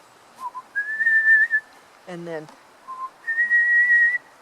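Whistles in two different tones call back and forth outdoors in Washington State, a short low note followed by a long high sustained tone, repeated twice, with a brief voice speaking between them.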